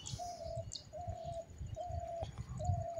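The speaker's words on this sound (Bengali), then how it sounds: "পুরো নিস্তব্ধ, পায়রার ডাক, শুধু শুধু পায়রা ডাকছে।" Pigeons coo repeatedly on a quiet, empty railway station platform, four soft drawn-out calls in a slow rhythm over low background hum.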